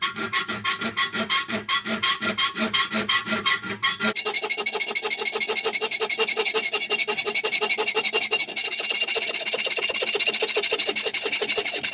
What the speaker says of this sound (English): But you just take your file, run it 90 degrees.